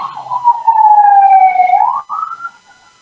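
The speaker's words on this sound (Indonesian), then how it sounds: "mohon maaf, ada ambulan lewat" An ambulance siren wails close by in one loud, sweeping tone that shifts pitch and then cuts off abruptly as the vehicle passes.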